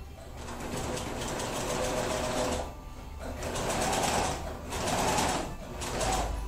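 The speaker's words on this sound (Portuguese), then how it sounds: "E vou passar uma costura." Sewing machine stitching patchwork fabric, running in steady whirring bursts with brief pauses between them, close and fairly loud.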